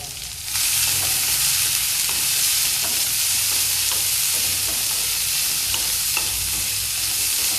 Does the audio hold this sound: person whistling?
no